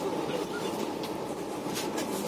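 A passenger train rolls along in India, heard from inside the carriage as a continuous, moderately loud rumble with faint rail clatter and occasional brighter clicks throughout.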